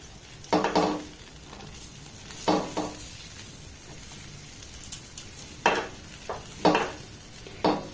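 Rice flour is stirred into boiling water in a pot for pitha, with a low bubbling hiss under several separate bursts of scraping and clattering from a spoon against the pot, close and moderately quiet, no talking.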